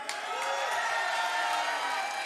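A live audience at a speedrunning marathon event cheers and applauds continuously after a Mike Tyson's Punch-Out!! run, a dense, steady wash of claps and whoops with no talk.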